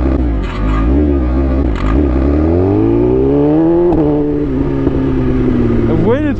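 A BMW S1000RR sport motorcycle engine drones loudly and close, its pitch climbing slowly in a long rev before settling and dipping, with an uneven, rough edge to the running note.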